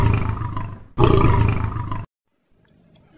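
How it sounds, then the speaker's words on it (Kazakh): A lion roars in two long, loud, close bursts, the second starting after a brief break and ending abruptly, followed by near silence. "Arslan."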